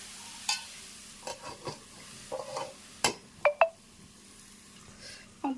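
A utensil stirs a vegetable fry in oil, giving intermittent scraping clinks against the pan over a faint sizzle, with several distinct sharp knocks in quick succession and no voices.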